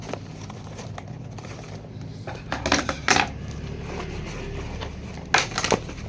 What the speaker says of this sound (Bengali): পার্সেলটা এখন খুলছি।